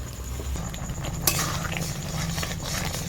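A spoon stirring cashews and raisins into raw mango chutney in a pan, with soft scraping, a brief clink of the utensil, and a low bubbling sizzle underneath, close and continuous.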